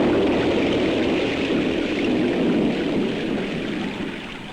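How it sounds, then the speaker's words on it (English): Heavy rain with a low thunderstorm rumble pours as a dense, continuous roar, loud and steady, fading slightly at the end. "We really did get rained out."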